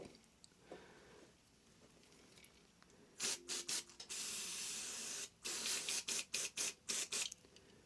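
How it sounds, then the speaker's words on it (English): Holt's electrical contact cleaner is sprayed onto a cloth during a supercharged Range Rover gearbox repair, in a burst of loud, close hissing: a few short puffs, one long continuous spray, then several more quick bursts in a row. "And I'm just going to give this a gentle spray."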